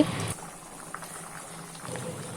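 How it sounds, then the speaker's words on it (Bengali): Hilsa fish in mustard sauce simmers under a lid in a pan, giving a steady, soft bubbling hiss that carries on alone after a brief louder start. "আমি একটা ঢাকনা দিয়ে কিছু সময় রান্না করে নিচ্ছি"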